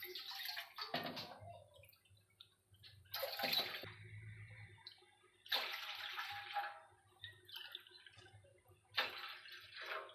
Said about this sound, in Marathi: मग त्या वाटीनेच आपण हे 4 वाट्या पाणी घेणार आहोत